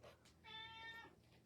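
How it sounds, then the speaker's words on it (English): A domestic cat gives a single drawn-out meow, heard close and fairly faint in a quiet room. "She just wanted to meow."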